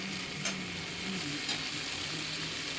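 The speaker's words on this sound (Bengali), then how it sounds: "দেখো এই যে গরম জলটাই অ্যাড করে দিলাম" Hot water poured into sizzling ginger-garlic masala paste in a pan, a steady close frying hiss with faint stirring clicks throughout, no voices.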